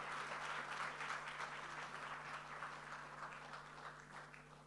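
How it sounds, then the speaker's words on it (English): Audience clapping for a performer at an office launch event in Barbados, a steady round of applause from a moderate crowd that gradually fades over a few seconds. "come and give her a round of applause"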